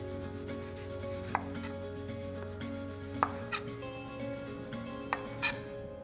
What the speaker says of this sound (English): slide your knife around to get rid of the peel and the pith